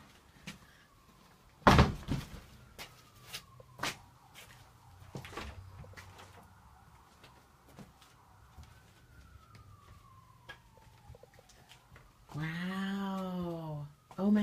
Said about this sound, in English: we're going through the door of the beautiful garden